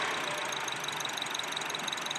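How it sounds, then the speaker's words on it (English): A 2004 Acura with misfire faults runs steadily at idle after starting, a continuous close engine hum with a faint ticking knock throughout and no voices. "So what I'm going to do is start the car back up."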